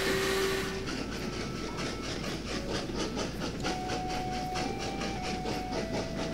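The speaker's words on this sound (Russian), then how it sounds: "И теперь у нас красный поезд красный поехал." Trains rolling along the tracks in the Train Valley railway game, a steady rhythmic clickety-clack with hissing and a sustained tonal hum, no talking.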